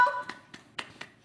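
A baby clapping small hands, about five soft, sharp claps spaced irregularly over a second, close by and quiet, with a brief high voice at the very start.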